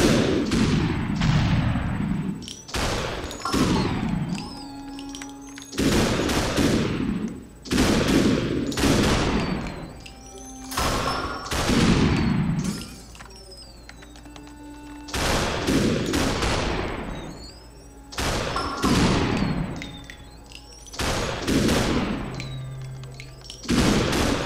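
Enemy gunfire in the video game SuperHot: repeated loud volleys of overlapping shots in irregular bursts with short gaps, no talking.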